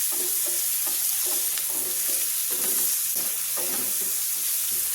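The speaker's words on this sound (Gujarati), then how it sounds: "ટામેટાને પણ બરાબર સાતળી લેવાના છે" Chopped tomatoes with capsicum sauté in a pan, hissing and sizzling steadily while a utensil stirs and scrapes them at regular intervals, close and loud.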